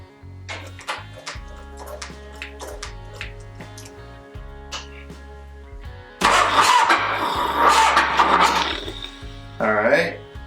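A Harley-Davidson FXR motorcycle engine fitted with an S&S carburetor turns over and fires up, first as a steady low rhythmic idle, then rising into louder revving near the end.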